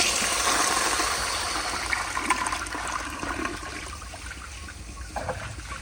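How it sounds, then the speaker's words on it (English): A 1965 Kohler Barlow toilet on a flushometer flushes at full pressure, a strong rushing surge of water that gradually tapers into gurgling and trickling refill, heard up close with no talk. "Here is a flush with the pressure all the way up."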